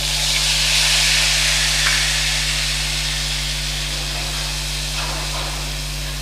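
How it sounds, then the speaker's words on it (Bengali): Whole cloves and a small cinnamon stick fry in hot oil in a pan, giving a steady, loud, close sizzle and hiss that runs unbroken throughout with no talking. "দুটো লবঙ্গ দিলাম একটা ছোট দারচিনি দিলাম এটা ভাজা সুন্দর গন্ধ আসলে"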